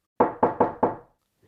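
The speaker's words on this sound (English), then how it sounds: "And suddenly there was a knock at the door." Four sharp knocks on a door in quick, even succession, close and loud, then silence.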